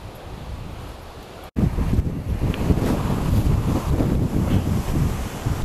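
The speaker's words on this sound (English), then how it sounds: "this wind's getting impossible. It's almost blowing me off the bike." Strong wind buffets a cyclist's microphone while crossing Shap, a loud, roaring rumble that briefly drops out before returning even harder and gusting continuously, with no voices.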